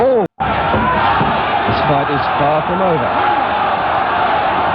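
A boxing crowd roars and cheers steadily for Lionel Rose during his bantamweight title bout with Alan Rudkin, a dense loud wash of voices heard under continuous ringside commentary, with one brief dropout near the start.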